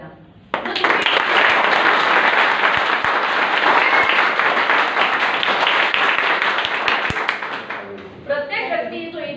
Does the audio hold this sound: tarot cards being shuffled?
no